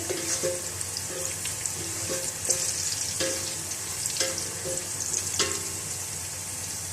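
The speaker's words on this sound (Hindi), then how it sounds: "इनको फ्राई करेंगे कुछ सेकंड्स के लिए" Whole spices sizzle and crackle in hot oil, a steady frying hiss with occasional louder pops and stirring clinks close by.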